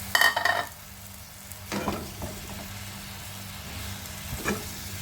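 Low-oil vegetable curry of fried potato and pointed gourd with spices, stirred in a pan; clattery stirring bursts near the start and again around two seconds over a soft, steady sizzle.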